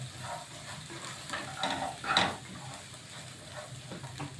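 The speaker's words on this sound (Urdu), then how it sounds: "اس کو اچھے سے فرائی کریں گے۔" Boiled black chickpeas frying with chaat masala in a pan, a steady soft sizzle broken by a few louder stirring scrapes, close and alone without talk.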